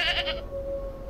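A goat in the video game Preserve bleats once, a short wavering cry at the start that fades into a quiet steady tone, with no talking.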